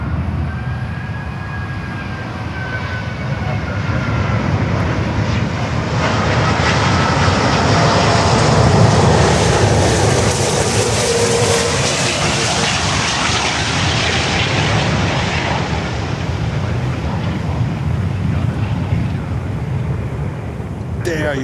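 An Airbus A380 comes in to land at Miami airport, its engine roar loud and sustained, rising and swelling as the jet passes near, then slowly fading over about twenty seconds. No voices are heard over it.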